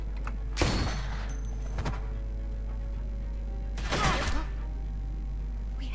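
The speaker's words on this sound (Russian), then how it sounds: "Я слышу выстрелы, что там, черт возьми, происходит?" Gunfire in the video game The Walking Dead: A New Frontier, two or three sharp bursts against a steady low hum, moderately loud with quieter gaps between shots.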